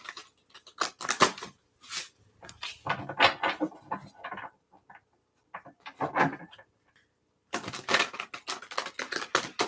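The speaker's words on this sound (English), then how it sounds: "Then we'll give it a couple shuffles." Tarot cards being shuffled at a reader's work area, heard as rapid riffling and clicking bursts in uneven runs with short pauses between them, close and moderately quiet with no talk.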